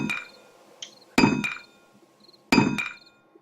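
Iron crossbow bolts are crafted in the video game 7 Days To Die, heard as three sharp metallic hammer strikes with ringing clinks, evenly spaced and close, with no talk.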